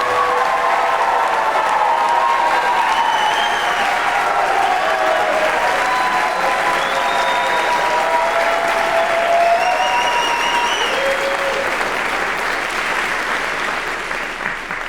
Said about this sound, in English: Let's give one more round of applause for an incredible Warner Rams trip.